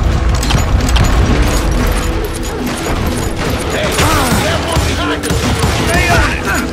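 Gunfire in Call of Juarez Gunslinger, a loud, continuous battle din of overlapping shots and booms during a shootout, with a voice heard over it.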